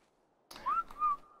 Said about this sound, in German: Na, zum Glück hören sie das Pfeifen soweit nicht.